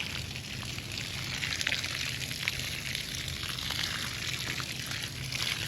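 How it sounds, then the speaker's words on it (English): Steady splashing hiss of water pouring onto mulched garden soil, continuous and fairly loud throughout, with no voices. "I'll go ahead and start adding some liquid to our soil here."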